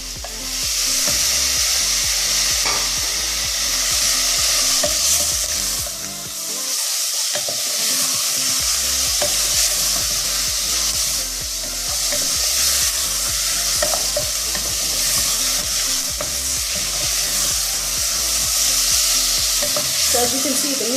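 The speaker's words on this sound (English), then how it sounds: "So as you can see, the meat is already cooking." Small cubes of meat fry in a hot pan, a loud continuous sizzle broken by frequent scraping stirs, close up and with no voices.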